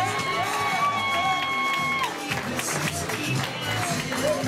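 Wedding reception guests cheering for a bridesmaid and her escort entering: a lively crowd of shouts and whoops with scattered claps and taps, loud and sustained throughout.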